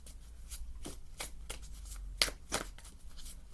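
Tarot cards are shuffled close up, quick riffling bursts repeating at a steady rhythm, quiet and with no talking.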